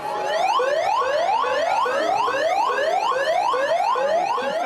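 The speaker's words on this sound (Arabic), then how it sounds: "فدوت صافرات الإنذار في المستوطنات" A warning siren sounds loudly and continuously during an emergency drill in settlements, its pitch sweeping up in rapid repeated whoops about twice per second with no pause.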